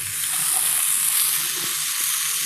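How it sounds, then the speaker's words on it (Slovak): Vegetables and sliced garlic dropped into hot oil, a loud, steady bright sizzle filling the whole moment with faint scraping underneath. "olej máme rozohriatý, môžeme tam pridať zeleninu a cesnak takisto"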